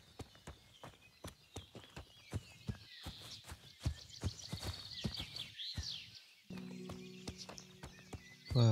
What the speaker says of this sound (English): I might have to call my horsey.